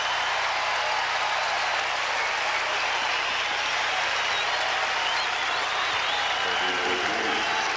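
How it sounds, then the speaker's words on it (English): A tennis crowd at a night match at the US Open applauds loudly and steadily, a dense sustained wash of clapping that fills the whole stretch with faint voices mixed in. "the emotions of this set now brought the crowd into it for Martin"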